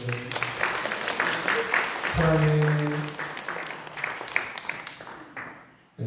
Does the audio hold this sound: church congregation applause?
yes